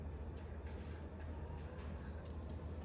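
Aerosol spray shot into the cylinder of an old abandoned lawn mower engine, two short hissing bursts followed by a longer steady hiss, close and clear over a low background hum.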